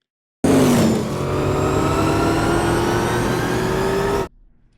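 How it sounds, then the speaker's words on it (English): A car engine roars loudly and steadily, its pitch rising slightly as it revs, sustained for a few seconds before cutting off abruptly. "Having the sound of the engine over his screams."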